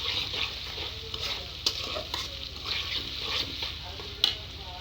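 Pasta with cumin powder is stirred in a frying pan over a steady hissing sizzle, with soft scraping strokes and occasional sharper taps of the spoon against the pan, close and continuous without speech.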